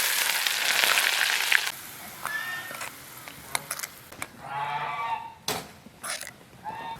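Hot oil poured over chopped scallions, chili, minced garlic, sesame seeds and chili flakes, giving a bright hiss that fades, then a second burst of sizzling with a few clinks of utensils.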